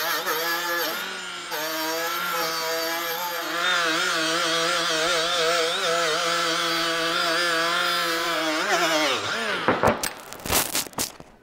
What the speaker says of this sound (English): just using a Scotch Brite pad on the old Milwaukee